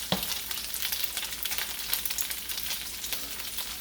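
Shrimp browning in a pan for a curry stir-fry give off a steady, close sizzle with soft crackles throughout, no voices.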